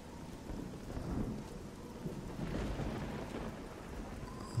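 Rain pours steadily in the video game Oblivion while low thunder rumbles and swells twice in the background.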